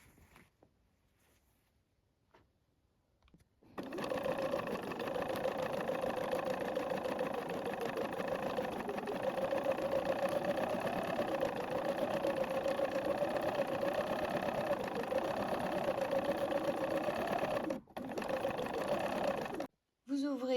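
Sewing machine stitching the side seams of skirt pieces for a dress, a steady continuous motor whir running close and loud after a quiet start, with a brief pause near the end.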